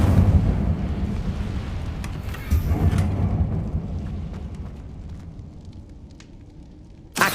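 A fire spell cast in Hogwarts Legacy erupts as a loud, rumbling whoosh of flame that roars at once and slowly fades over several seconds, ending with a sharp burst of sound.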